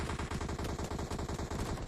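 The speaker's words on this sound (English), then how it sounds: "Shots coming in." Rapid gunfire in a competitive shooter video game, a fast steady stream of sharp shots at a moderate distance, played alone with no talk.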